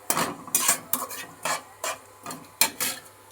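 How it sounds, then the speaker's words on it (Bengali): Dried red chili and black cumin stirred in hot oil in a kadai: a series of about eight rhythmic scraping strokes over a light sizzle, close and clear with no talking. "এটা একটু নেড়ে নিচ্ছি শুকনো লঙ্কাটা"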